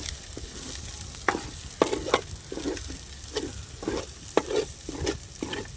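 Curry leaves sizzling in a pan with fish curry base, close and fairly loud, punctuated by repeated scraping stirs of a spoon against the pan bottom at an uneven rhythm.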